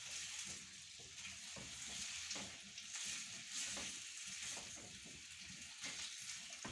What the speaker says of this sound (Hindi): मीडियम आंच पे इसको आपने रोस्ट करना है आलूओं को ऑयल में।